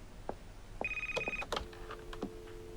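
A telephone ringtone chirps in short electronic tones near the listener in a quiet room, a few brief rings with faint background sounds and no talking.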